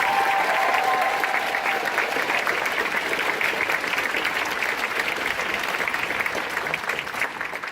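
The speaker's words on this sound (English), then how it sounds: "So round of applause to everybody." Steady, loud audience applause fills a Comic Con cosplay contest hall, sustained clapping from a large crowd with no pauses throughout.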